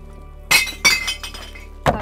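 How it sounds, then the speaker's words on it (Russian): Glass bottles and jars dropped into a glass recycling container, with two sharp clinking crashes close together and a third shortly after, loud and close with no talk. "Выкидываем наше стекло."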